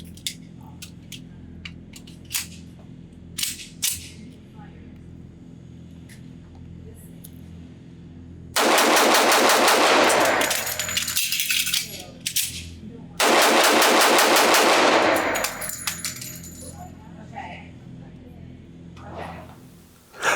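A Remington R1 1911 pistol fires at a range in two loud, rapid strings of shots, each a few seconds long, separated by a pause. Quieter handling clicks and rattles come before them.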